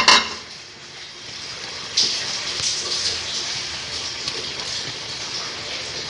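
Spices being stirred into besan (gram flour) in a dish: soft, steady scraping and rustling close by, with a brief clink of a spoon against the dish partway through.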